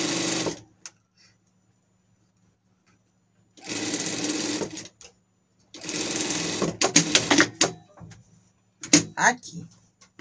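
A sewing machine stitching a safety seam on a costume, several short whirring bursts of stitching separated by pauses, close and steady, with handling clicks between runs.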